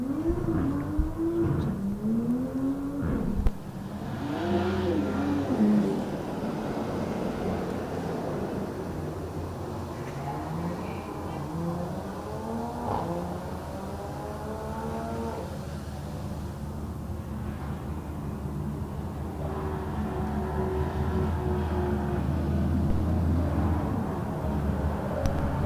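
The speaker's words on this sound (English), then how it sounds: "It does look like we only have a couple cars on track." A few race cars lap a track at the Buttonwillow GTA finals, their engines droning steadily at mid distance, rising and falling as they pass, with no talk over the sound.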